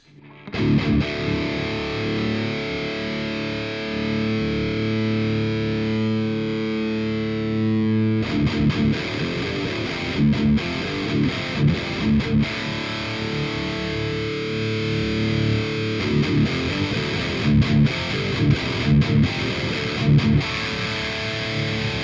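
Heavily distorted electric guitar through an amp and a modeled 4x12 XXL cabinet, sustained chords at first, then chugging palm-muted riffs with short stops, loud and upfront.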